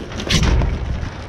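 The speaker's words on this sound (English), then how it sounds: "That noise you heard was my head hitting the top of this dumpster." A head knocking against the top of a metal dumpster gives a single dull thud near the start, followed by a short rustling tail.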